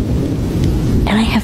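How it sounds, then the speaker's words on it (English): Unusual-sounding thunder rumbles through a Florida thunderstorm, a steady loud low roar with rain underneath, joined near the end by a brief higher drawn-out tone. "I have never heard thunder like that."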